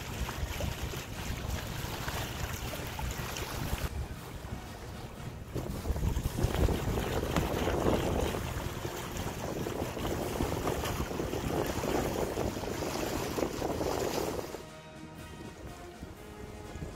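A sailing yacht running under full sail off the coast of Croatia, heading from Punat on Krk toward Rab, with steady rushing wind noise and water hiss across the whole stretch and no voices.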